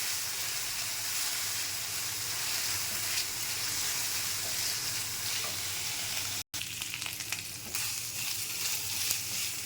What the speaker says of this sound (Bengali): পেঁয়াজ রসুন আদা বাটা দিয়ে দিলাম। পেঁয়াজ কুচির সঙ্গে একসাথে করে ভেজে নিতে হবে।